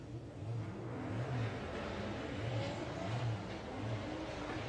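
A VW drag racing car launches down the strip at Santa Pod Raceway with a little tyre spin, its engine a steady loud roar with rhythmic low pulses throughout, heard from a distance with no talk.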